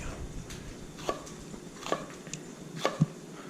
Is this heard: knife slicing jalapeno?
yes